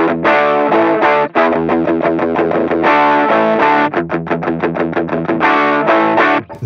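Electric guitar played through a Valeton GP200 multi-effects unit with added saturation and no modulation, delay or reverb, loud, gritty chords strummed in a steady rhythmic pattern with brief choked pauses.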